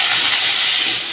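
Papaya and potato pieces frying in hot oil in a pan give a loud, continuous hissing sizzle up close, with no talking.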